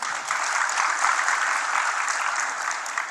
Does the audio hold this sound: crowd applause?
yes